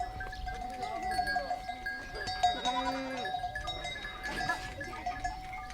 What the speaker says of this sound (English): Locals share the path with flocks of sheep, happy to follow the directionally confident goats